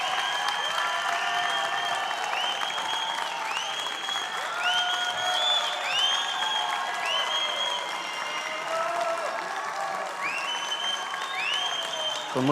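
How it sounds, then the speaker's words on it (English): An audience claps warmly for a guest speaker being introduced at an event, with dense, sustained applause filling the whole stretch at steady loudness and a few bright whistle-like tones over it. "please, huge applause for Mauricio"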